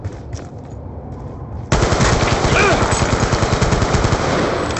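Rapid machine-gun fire from a Black Ops II match rattles loud and continuous, jumping sharply louder after a quieter opening stretch, with sustained bursts filling the rest of the clip.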